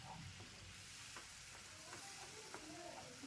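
Bottle gourd kofta curry base sizzling and frying in a pan while being stirred, a steady low crackle with soft scraping strokes of a spatula, faint and close with no talk.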